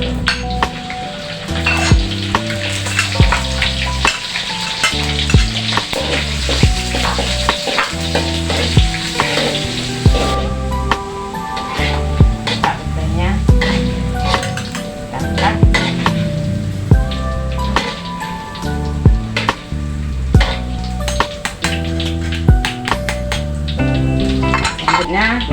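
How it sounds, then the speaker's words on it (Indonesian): Oil sizzles and crackles steadily in a pan as stink beans (petai) fry, with occasional clinks and scrapes of a utensil stirring against the metal. "Kita goreng petainya lagi ya teman-teman."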